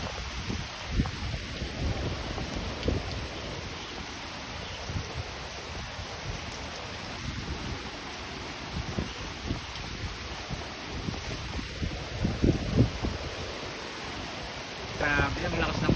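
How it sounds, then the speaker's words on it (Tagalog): Heavy typhoon rain roars steadily with gusts of wind buffeting the microphone at a chili garden, a continuous dense wash with occasional low rumbles and a voice speaking briefly. "Grabe ang lakas ng ulan."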